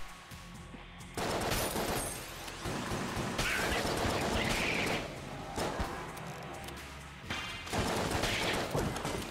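AK fire in the video game Enter the Gungeon comes as several long bursts of rapid gunshots, loud and dense, separated by brief lulls over a constant game backdrop.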